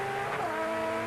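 1988 European Touring Car Championship race car at Zolder on a wet track, engine droning steadily as power is fed on carefully, a loud continuous tone with light tire hiss, no talk.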